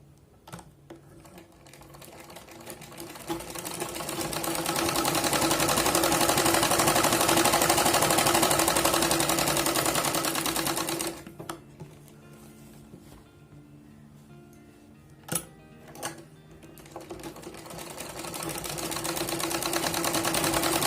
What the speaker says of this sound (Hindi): तो चलिए इसको सिलाई लगा लेते हैं